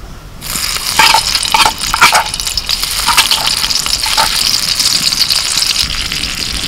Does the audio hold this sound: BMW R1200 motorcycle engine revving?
no